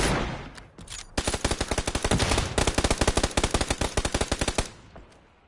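Rapid automatic gunfire in PUBG on the Karakin map, a loud, sustained burst of closely spaced shots lasting several seconds before cutting off, with no talking over it.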